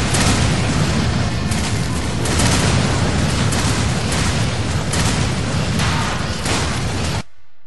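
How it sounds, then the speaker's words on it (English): Enormous deadly explosion in the Lollipop Chainsaw video game on PS3, a long, loud, continuous roar of blasts and rumbling booms lasting several seconds before cutting off abruptly. "you check out the enormous deadly explosion"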